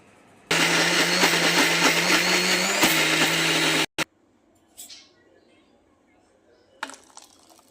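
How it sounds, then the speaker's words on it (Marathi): A mixer grinder whirs loudly and steadily for about three and a half seconds, grinding dahi vada batter with five or six ice cubes, then stops abruptly, leaving a few faint clinks and handling sounds. "आईस क्यूब टाकून घेऊया पाच सहा आणि याला ग्राइंड करूया"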